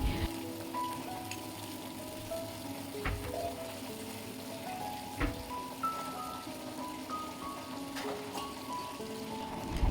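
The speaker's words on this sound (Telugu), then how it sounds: "ఇక్కడ పొంగల్ కోసం పోపు పెడుతుంది మమ్మీ" Tempering for pongal spluttering in hot oil, a continuous crackling sizzle with occasional sharp pops, steady and close, alongside faint background tones.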